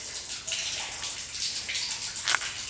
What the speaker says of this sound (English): a lot of water coming in here